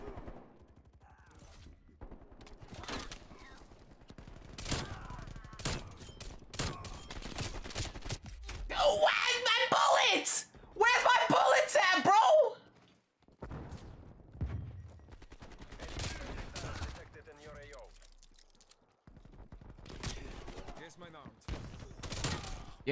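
Gunfire in the online shooter Black Ops Cold War, including akimbo shotguns, with scattered shots throughout and a dense burst of fire in the middle, under excited talk from players.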